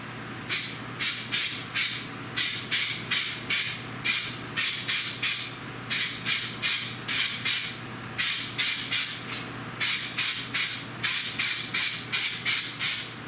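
A spray can lays a thick bedliner-like coating onto Lone Wolf climbing sticks, heard as close, loud hissing bursts in rapid clusters of three to five with short pauses between groups, and no talking.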